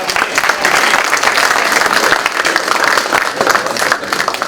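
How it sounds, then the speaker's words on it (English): Loud, dense applause from an audience at a youth program keynote, sustained steadily for several seconds with a crowd's mixed claps throughout. "Please have another round of applause."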